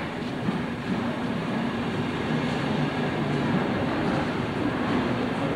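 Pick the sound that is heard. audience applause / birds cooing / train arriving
train arriving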